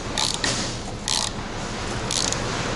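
Socket wrench ratcheting on a rusty, stuck brake bolt of a Toyota Camry, close grinding mechanical clicks in several short bursts over a loud noisy background.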